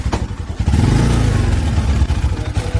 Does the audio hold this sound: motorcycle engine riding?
yes